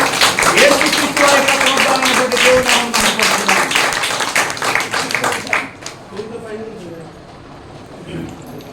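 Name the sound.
people clapping at a church cake-cutting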